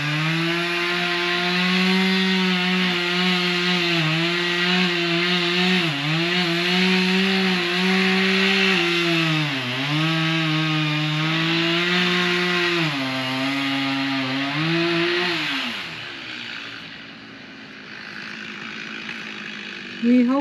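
A chainsaw cutting into a big oak tree near a house, engine whining at a steady high pitch that dips briefly under load, then cuts off near the end, leaving quiet.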